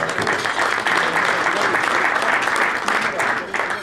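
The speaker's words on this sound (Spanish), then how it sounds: "Por favor, un aplauso para..." Audience at a Rotary Club meeting in Buenos Aires applauding steadily for about four seconds, a dense wash of clapping that stays loud throughout and thins slightly at the end, with a voice briefly audible beneath it.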